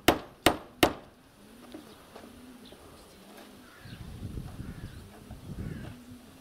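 Three sharp hammer blows ring out at the start as holes are punched through an iron strip for nails, followed by quieter tapping and rustling with birds cooing in the background.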